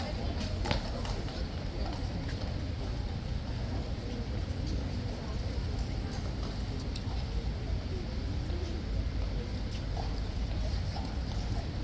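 Steady clip-clop of horse hooves on a hard surface at Horse Guards, ongoing and fairly close, mixed with background chatter and general outdoor noise.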